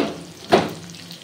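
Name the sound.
frying spices for soyabean dopiaza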